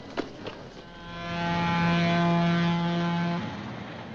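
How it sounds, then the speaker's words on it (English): A departing train at a station gate, in a 1955 comedy, gives one long, steady, droning horn-like tone that swells and then cuts off, after a couple of faint knocks. "Train for Stockton and Blitzen."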